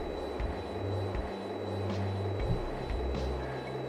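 A jet aircraft engine in the Fighters Anthology flight simulator, a steady loud rumbling drone with a low hum that holds throughout, uninterrupted by talk.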